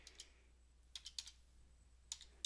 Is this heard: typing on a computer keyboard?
yes